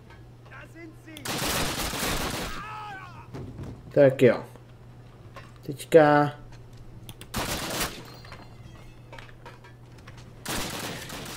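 Gunfire in the World War II shooter Call of Duty, aboard a Nazi battlecruiser: several sharp bursts a couple of seconds apart over a steady low hum, with someone talking quietly between shots.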